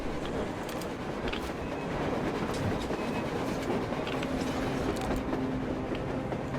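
Train rolling along rails on the surface in the video game Metro Exodus, a steady loud rumble with rhythmic clickety-clack of wheels over track joints, continuous and close, with no voices.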